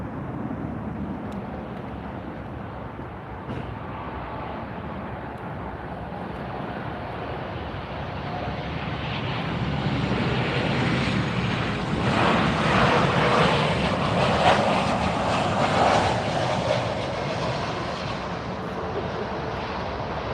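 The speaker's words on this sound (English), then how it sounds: "We see 2 jets coming in at the same time." Jet airliners arrive at Miami International Airport with a distant, steady engine roar that swells louder in the middle as a plane passes closer, then eases off again.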